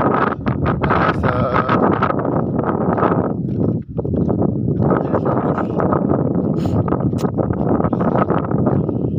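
Wind buffets the microphone in rough, continuous gusts outdoors, with rustling and a brief lull partway through.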